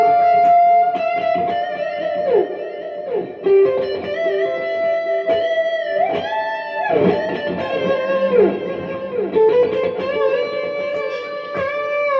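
Electric guitar played through a Boss ME-80 multi-effects unit with delay switched on, clean-toned melodic notes and bends sustaining with repeating echoes trailing behind, steady and fairly loud with no talking.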